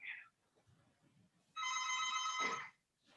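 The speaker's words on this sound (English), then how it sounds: "Let me answer the phone." A telephone rings with one short chirp, then a sustained electronic bell-like trill lasting about a second, clear and fairly close, before someone answers; faint room noise fills the gaps.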